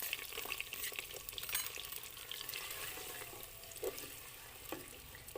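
Onions frying in hot oil in a cooking pot, a soft continuous sizzle with occasional faint stirring scrapes, heard fairly quietly and without talk.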